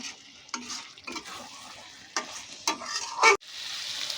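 Partly boiled chicken being stir-fried with chicken masala for chicken kosha sizzles in a pan, with repeated scraping stirs in uneven bursts and a sharp clink before the steady frying carries on.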